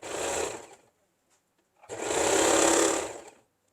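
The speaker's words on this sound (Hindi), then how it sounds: "हमको इसे तिरछाई में नीचे तक सिलते जाना है।" A sewing machine stitches saree fabric panels into a dress in two close, loud whirring bursts, a short run and then a longer one, separated by a second of silence.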